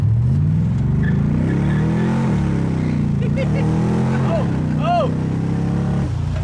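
A supercharged C4 Corvette engine drones loudly from inside the moving car, its pitch climbing and sliding as it revs and shifts, while a voice briefly exclaims over it.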